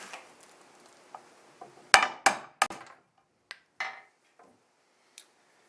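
Old screws are banged out of teak wood with a hammer, giving several sharp metallic knocks in an irregular cluster. Fainter taps and clinks sit between the strikes in an otherwise quiet space.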